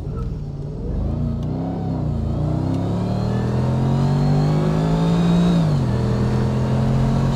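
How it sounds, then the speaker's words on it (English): Mercedes-McLaren SLR with its V8 engine accelerating hard, a loud close revving roar climbing steadily in pitch for several seconds, then shifting down. Any tire chirp is not distinct under the engine. "Okay, first of all, I chirped the tires, which I didn't mean to."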